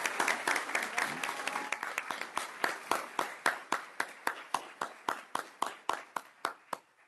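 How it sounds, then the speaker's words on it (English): Applause at a board meeting, starting as a brief patter and settling into a sparse, steady round of separate claps from a small group that slowly fades out. "Join me in giving them a round of applause."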